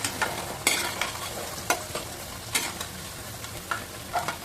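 Chana dal flour snacks deep-frying in hot oil give a steady, crackling sizzle with occasional sharper pops and stirring clinks, close and continuous.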